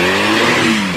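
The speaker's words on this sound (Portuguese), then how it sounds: "Goianira vai tremer com o roncado dos motores." Several classic car engines rev at a vintage car show in Goianira, a loud, steady roar with rising and falling pitch sweeps, heard up close and alone.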